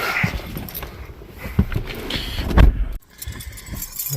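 Car keys for a 2009 Jaguar XF jingle and rattle in short bursts close up, with rustling handling noise and a faint engine hum in the background.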